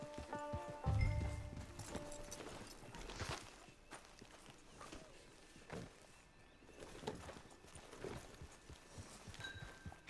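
Horse hooves clip-clop in Red Dead Online at a bandit camp, a loose walking rhythm of moderate hoof falls over faint game ambience and music, with no speech.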